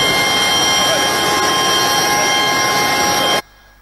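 A plane carrying a government minister departs for Kinshasa, its jet engine a loud, steady broadband roar with a high whine that stops abruptly near the end.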